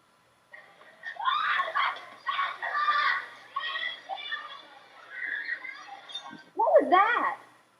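Several voices shriek and yell in overlapping bursts during a Sadie Hawkins chase, fairly close, rising to a sharper cluster of screams near the end.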